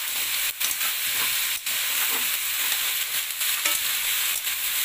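Shredded cabbage sabzi frying in a pan, a loud, continuous bright sizzle with a few quick stirring scrapes cutting through it.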